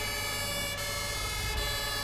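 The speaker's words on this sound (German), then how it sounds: "Schönes Presslufthorn." Fire truck air horn from a Mercedes-Benz Atego HLF fire engine mod in GTA 5, a steady loud blaring tone held continuously over low engine rumble, with no voices.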